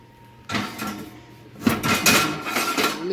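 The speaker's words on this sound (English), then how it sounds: "you just want to put them in the oven" Rusty cast iron pans being slid into an oven, heard as loud close metallic clanks and scrapes, one bump followed by a busier rattle of metal on metal with no talk.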